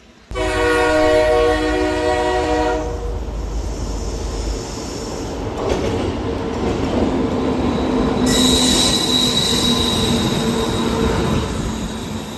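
A train pulls into a station, its horn-like tonal squeal and grinding wheels loud at first, then settling into a steady rumble of railcars rolling past with brake hiss, no talking.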